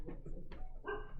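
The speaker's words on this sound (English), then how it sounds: "Appropriate dog barking in the background, if you can hear that" A dog barks a couple of times in the background, short muffled yips heard faintly at a distance.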